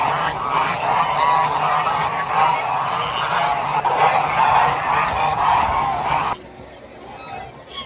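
A large flock of lionhead geese at a farm keeps up a dense, continuous honking chorus with many overlapping calls, loud and steady, before it drops away abruptly to a quieter background.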